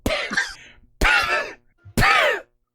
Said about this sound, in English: occasionally just coughing, and black soot comes out of their mouth every time they do